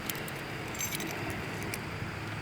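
Old worn keys jangle steadily at close range while one is tried in the lock of a 1979 Ford Bronco, a continuous metallic rattle with no talking.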